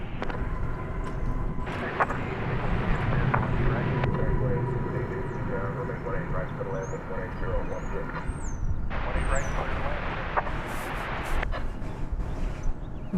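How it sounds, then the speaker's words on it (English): An American Airlines Boeing 737-800 jet at DFW Airport, heard as a steady broadband engine roar that holds for the whole stretch, with people talking over it. "It's another 737-800 American Airlines flight 1091"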